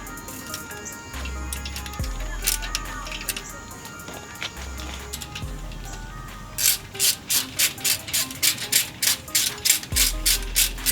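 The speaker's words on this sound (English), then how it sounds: "you're going to go ahead and put the actual compression tool in" Valve spring compressor tool being threaded into a valve cover bolt hole on an F-Body engine, giving a close run of quick ratchet clicks in bursts, with faster, louder clicking toward the end.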